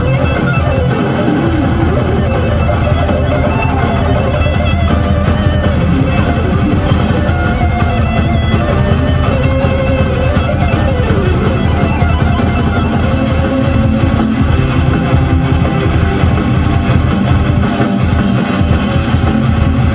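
A heavy metal song by a Canadian band plays as a dense, loud wall of distorted guitars and drums. It is steady and unbroken for the whole stretch, with no talking.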